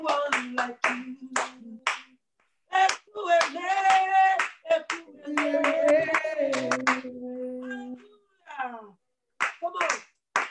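Congregation at a church Bible study claps hands in sharp, rhythmic bursts at the start and end, with voices singing and calling out loudly in between.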